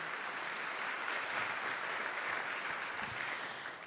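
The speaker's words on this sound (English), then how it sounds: "please another big round of applause for our panelists here" A summit audience applauds its panelists with steady, even applause from a large room, moderately distant and sustained without a break throughout.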